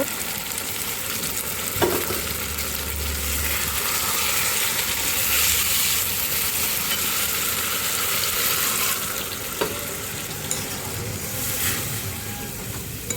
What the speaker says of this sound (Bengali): এবার মাছটা একটু ফুটবে।